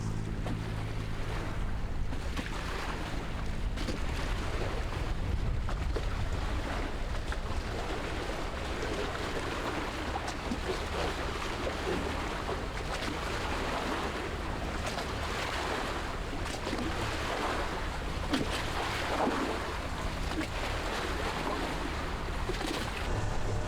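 A sailboat motoring under engine across calm, glassy sea with a slight roll, heard as a steady low engine drone beneath continuous wash of water and wind noise throughout, with no talking.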